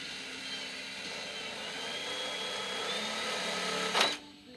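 A self-tapping screw, overly long, driven into metal sheeting by a power drill on a well house build, the motor whirring steadily for about four seconds before a sharp bright bite near the end, then stopping.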